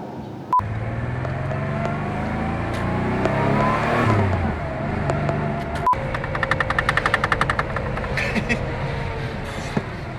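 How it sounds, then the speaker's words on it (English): A car engine revs up loudly and nearby, rising in pitch then dropping, followed by a rapid crackling burble as it settles. "Yeah, that's an engine."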